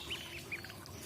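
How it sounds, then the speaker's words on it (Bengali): Ducklings for sale at a market give high, thin peeps, a few quick chirps close by over a quiet background. "অনেক সুন্দর তো হাঁসের বাচ্চা।"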